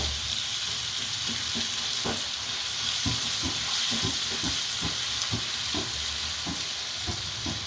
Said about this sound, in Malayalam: പക്ഷെ നന്നായിട്ടൊന്ന് വറുത്തെടുക്കണം നെയ്യിൽ